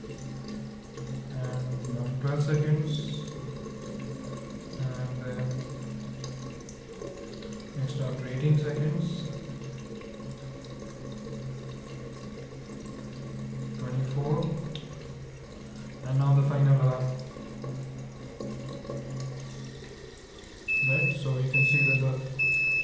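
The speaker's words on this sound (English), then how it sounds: "So let me turn on the water." Water runs steadily from a tap throughout, with a low hum and occasional beeps from a water sensor, plus a voice talking intermittently over it.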